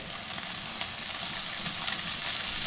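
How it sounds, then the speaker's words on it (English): Pork belly sizzles and spits steadily in a hot pan with a light dusting of salt, a dense, continuous frying hiss with no voices. "Now we're going to add the pork belly and just very light salt, very light"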